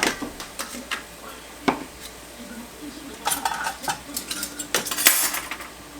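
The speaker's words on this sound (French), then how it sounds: "Donc on mélange, on fait un petit peu épaissir et on va ajouter la crème" A spoon stirring a pepper cream sauce for turkey escalopes in a pan, with repeated metallic clinks and scraping against the cookware, nearby and moderately loud, with faint background voice.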